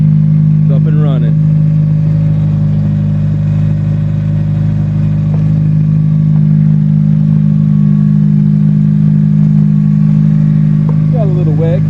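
A Nissan S14 with an SR20DET engine on its first start-up runs at a steady, loud idle with a constant deep hum and no revving. Brief voice-like chirps appear near the start and end.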